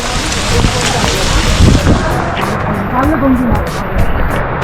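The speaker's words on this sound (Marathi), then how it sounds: "फुल पाऊस पडतोय वरनं एकदम जोरात" Steady heavy rain roars without letup during a forest trek, mixed with gusts of wind buffeting the microphone and faint voices underneath.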